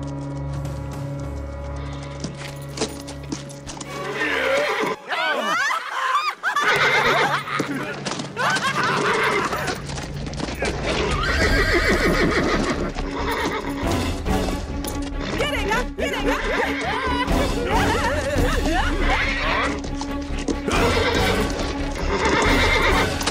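A wild, agitated horse gives loud whinnies and neighs amid clattering hooves and crashing noises, close and forceful, in an action-film scene, with a brief quiet gap before the commotion resumes.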